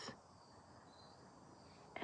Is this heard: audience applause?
no